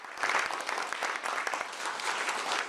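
Applause from a South Korean government meeting for the cast and crew of Parasite: steady, dense clapping from a room of people, fairly close and sustained throughout.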